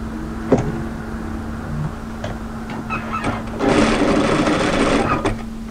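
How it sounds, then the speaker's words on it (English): A sewing machine edge stitches a belt loop on a crop tailored knit military jacket. It runs with a steady motor hum and a few short starts, then a louder, busier burst of stitching before it stops. "I'm going to edge stitch just in from the edge on both sides, just like a jean belt loop."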